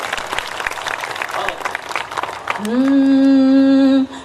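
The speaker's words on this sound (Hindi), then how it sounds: "एक बार जोरदार तालियां बजाकर बताइए।" Loud applause from an audience at a Hindi kavi sammelan poetry gathering, dense clapping for about two and a half seconds before a sustained tonal sound, like music or a held harmonium note, takes over and cuts off.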